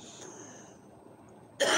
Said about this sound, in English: Oh man, it's a nasty cough.